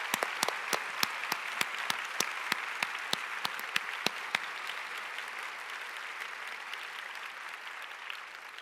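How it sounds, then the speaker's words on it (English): Applause from a conference audience after an opening keynote, a modest scattering of individual claps that are distinct and fairly quiet at first, then thin out and fade toward the end. "Let's give Nicki a round of applause."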